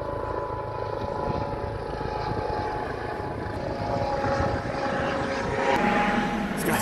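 Low-flying aircraft passing overhead on a windy day at Sucia Island, a steady engine drone over rushing wind, growing slightly louder toward the end.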